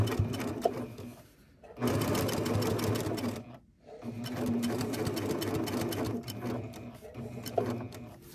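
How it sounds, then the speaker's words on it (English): Sewing machine stitching straight across the nose-pleat fold of a fabric face mask, running in three steady bursts with short pauses between, close and clear with no talking. "I'm just gonna stitch straight across down to the other side"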